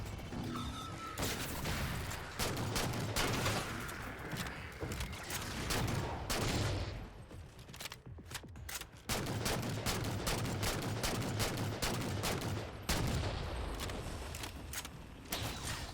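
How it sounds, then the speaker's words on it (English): Dense bursts of automatic gunfire in Halo 4 Spartan Ops, loud and nearly continuous, with brief lulls and clattering shots layered over one another during a firefight. "Just pounding them with bullets over and over again gets a bit tiresome."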